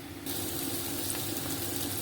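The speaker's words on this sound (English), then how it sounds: "I just started frying the vegetables there now" Steady sizzling hiss of food frying in a hot pan, starting abruptly and continuing evenly without interruption.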